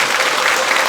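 Audience applause at an education event following a lecture, a short burst of loud, dense clapping from a crowd.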